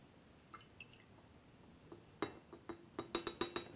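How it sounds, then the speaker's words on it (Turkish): Phosphorescent liquid being emptied into a glass bottle: faint scattered drips, then a run of bright, close glassy clinks and splashy ticks that come quicker and louder toward the end. "Şimdi şişenin içine boşaltıyorum."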